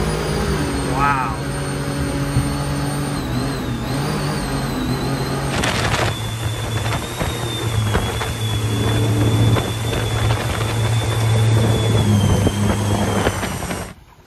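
A supercharged mini jet boat runs with a steady engine drone and a high whine, surging louder partway through, while people talk over it.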